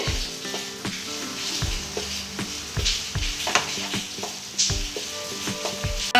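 Fried coconut being stirred into taro greens with prawns and chickpeas in a hot pan: repeated rhythmic scrapes and knocks of a spatula over a continuous sizzle, close and fairly loud.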